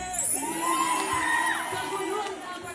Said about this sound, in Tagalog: Nakakaloka yung mga sigawan sa studio.